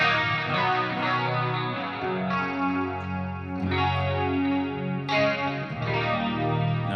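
Ernie Ball Axis electric guitar with two humbuckers in the middle pickup position, played clean through a Line 6 Helix with a Mimiq doubling pedal, giving a sustained, chorused sound of ringing chords heard alone.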